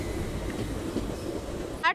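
A train waits at Katpadi Junction on a Mysore to Renigunta superfast express run, its low rumble and rail noise filling the background with a brief squeal near the end.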